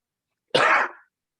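A single sharp, explosive burst close by, like a sneeze, ending abruptly in silence.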